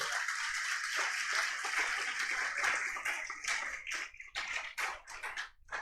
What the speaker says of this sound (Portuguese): Aplauda Jesus se você é crente.